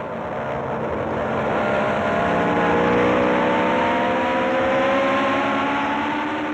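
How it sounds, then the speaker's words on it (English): A Ferrari Formula 1 car accelerates hard past a Brabham near a stadium, its engine a loud, continuous high-pitched scream climbing steadily through the gears, close up and alone. "Now the Ferrari rockets away on acceleration, passing a Brabham on the approach to the stadium."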